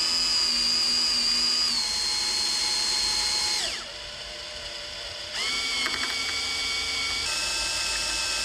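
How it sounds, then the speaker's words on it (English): A power drill whines steadily while drilling a hole for a Hobie 16 gudgeon screw repair, its motor pitch dropping as it bites in, briefly slowing and easing off, then spinning back up to a steady high whir. "Make sure you find that little hole that you started and just continue drilling."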